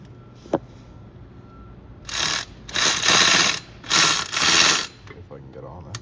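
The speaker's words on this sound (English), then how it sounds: "If I can get on it with the ratchet" Ratchet wrench clicking rapidly in three or four loud bursts while turning a bolt on the power steering pump of a 2016 Jeep Wrangler JK 3.6L, close up, with pauses between strokes.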